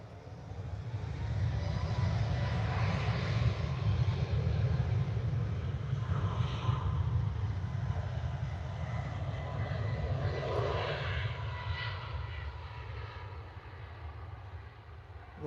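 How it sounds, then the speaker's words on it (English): A Ryanair Boeing 737 MAX jet takes off and turns sharply at Liverpool Airport, its engines giving a loud, steady roar that holds for the whole stretch and eases slightly toward the end. "A little turn and burn from a Ryanair Max."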